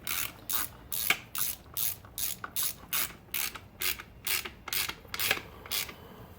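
A ratchet snugs valve cover bolts on a Toyota 1ZZ 1.8L engine in about a dozen short, evenly spaced bursts of clicking. It sounds close and is heard alone.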